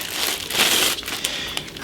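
Thin plastic bag crinkling and crushing as a Taurus G3 pistol is unwrapped from its packaging, a steady close rustle with brief sharper crackles, no talking.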